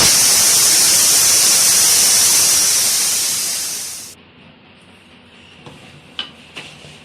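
Loud, steady hiss of steam rushing out of a pressure cooker cooking sarson ka saag for about four seconds, then cutting off abruptly, leaving faint clicks and metallic taps.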